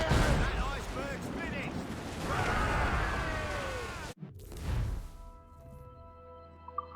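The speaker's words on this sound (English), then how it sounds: "Enemy ahead! Ready cannons!" Naval cannons in the Assassin's Creed Rogue video game boom in a loud rolling barrage with crashing impacts for about four seconds, then cut to a quieter stretch with tonal game sound.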